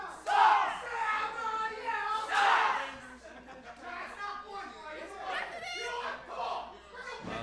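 A live wrestling crowd gives a ragged, half-hearted chant while two wrestlers try to lead it. Loud bursts of shouting rise and fade among scattered voices and chatter, and people talk over it.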